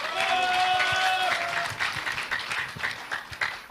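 An audience claps to welcome a candidate at a Liberty Korea Party national convention debate. Loud, dense applause at first, thinning into scattered claps as it fades, with a tonal ring and some voice underneath early on.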